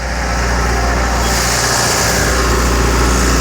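Close and loud, a tractor engine runs steadily at the jobsite, towing the hose line of a concrete pump for stem wall work, a deep constant drone without pause.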